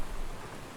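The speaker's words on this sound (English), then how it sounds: "Might have it where it's raining." Steady rain hiss in the Road to Vostok video game, a broad even wash of drops falling on the ground under cloudy, stormy skies, continuous and moderately quiet with no voices.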